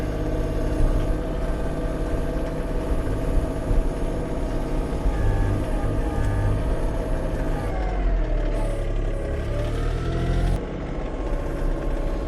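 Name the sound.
Kioti CK2620 tractor engine running while snow plowing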